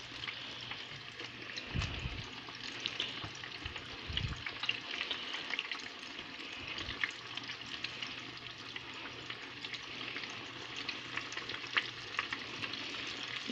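Zucchini and broccoli bites sizzle and crackle steadily in a frying pan, with a few low clunks and scrapes as pieces are flipped.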